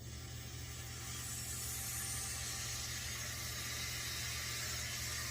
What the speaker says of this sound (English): after it's had time to sit, we will let the air flow back in.